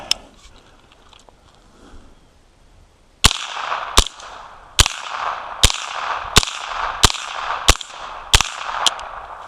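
An AR-15 chambered in .22LR fed from a 50-round drum, firing nine sharp, evenly spaced shots about a second apart, each loud and crisp with a short ringing tail, after a quiet start.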